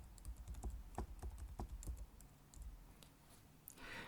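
Someone types a comment into a notes field on a computer keyboard, a quiet, irregular run of light key clicks with small pauses over a faint background hum.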